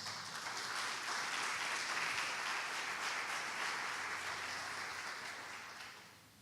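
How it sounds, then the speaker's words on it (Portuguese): Applause from a church congregation during a Sunday service, a steady wash of many hands clapping that holds for several seconds and then tapers off, with no talk over it. "Uma salva de palmas para o Senhor"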